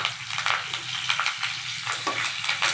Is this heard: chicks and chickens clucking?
no